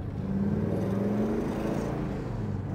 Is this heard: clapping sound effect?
no